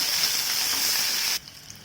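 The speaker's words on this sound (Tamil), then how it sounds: "வெங்காயம் கொஞ்சம் பொன்னிறமாகட்டும், அது வரைக்கும் நல்லா வதக்கி விடலாம்" Sliced onion sautéing in a pan for kurma gives a steady, close sizzle and hiss that cuts off abruptly near the end, leaving faint background.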